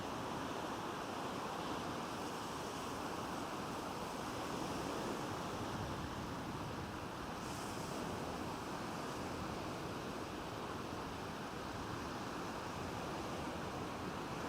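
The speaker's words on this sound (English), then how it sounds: "Still a bit of wind from yesterday, but it's much calmer." Steady wind buffets a low-tide shoreline, a continuous broadband rush with distant surf mixed in, holding an even level throughout with no pauses and no talk.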